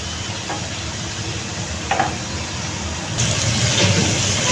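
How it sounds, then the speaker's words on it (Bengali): Spice paste sautés with a splash of water in a pan, giving a steady, soft sizzling hiss that swells louder partway through, with a few faint stirring scrapes and no talking. "এটাকে আমি এখন 2 মিনিটের মতো কষাবো"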